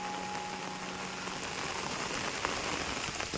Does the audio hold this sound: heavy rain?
yes